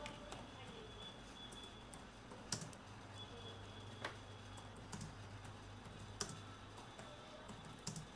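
Quiet typing on a computer keyboard, scattered clicks and a few sharper key taps at an irregular pace over a faint background hum.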